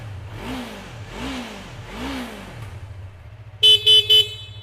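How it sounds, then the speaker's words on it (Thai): A 2017 Yamaha R3 motorcycle engine revs up in three rising surges, each climbing then dropping back, followed by three short horn-like toots over the idle. "เดี๋ยวเรามาลองเร่งเครื่องกันนะครับ"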